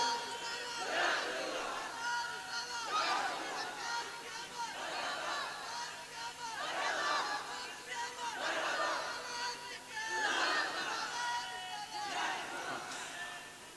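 A seated audience rises and chants slogans in unison at a religious poetry gathering, a crowd roaring in repeated rhythmic waves of massed voices, fairly loud and sustained, with no single speaker standing out.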